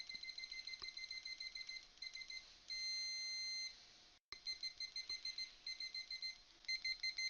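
Continuity-test beeps from a UNI-T UT202A+ clamp meter, a rapid series of short, loud electronic tones with one longer sustained tone and a brief gap, heard alone.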